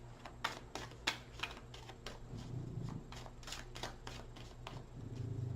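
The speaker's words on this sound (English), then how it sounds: "Off the top of the deck, one more shuffle." A deck of playing cards shuffled by hand in quick, rattling bursts of riffles and flicks, close and fairly quiet over a low steady hum.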